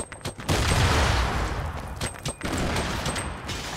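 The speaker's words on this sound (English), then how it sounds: "Let's throw some nades." Grenades explode in the Fortnite video game, giving a close, loud burst of booming blasts and rumbling debris with brief gaps between the detonations.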